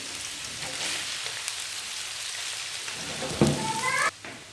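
Boiled rice being mixed in a frying pan over a low flame, a steady soft sizzle and hiss with light scraping stirs, growing louder near the end before cutting off.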